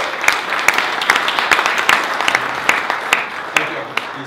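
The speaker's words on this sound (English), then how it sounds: "yes, big applause." Moderate applause from an audience at a university ecosystem session in Dubai, with individual sharp claps standing out in an uneven rhythm over a softer bed of clapping.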